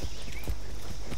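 Horse hooves clip-clop on the ground in a video game, a few distinct hoof beats spread across a short moment, moderately close, with no talking.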